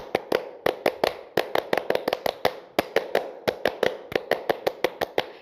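A group performs a rhythmic Scout clap, the tepuk pramuka, done twice in a row: sharp, close hand claps in quick patterned bursts with brief pauses between phrases, no talking.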